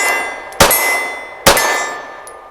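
A pistol magazine, a Korean KCI or Bull Armory type, drops free from a Derya Arms Rock Island DY9 pistol, giving two sharp metallic clangs about a second apart, close and loud, over a steady background hum.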